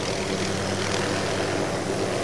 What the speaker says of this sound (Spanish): El helicóptero de Lewis vuelve a despegar del lago Escondido